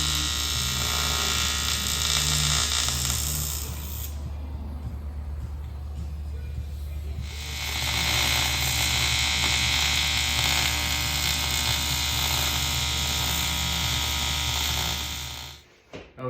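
A Tesla Model S motor cradle is cut with a power tool, giving a loud, steady hissing whine that drops away for a few seconds midway, then resumes before cutting off at the end.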